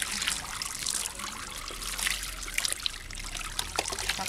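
Water trickles and splashes steadily over a Breton dog being rinsed in a bath, a continuous close wet pouring with faint voices under it.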